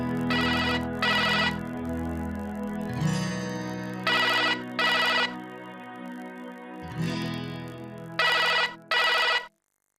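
A telephone ringtone sounds in a home during a family drama, repeating in short electronic bursts with musical score underneath, ringing several times before cutting off abruptly near the end.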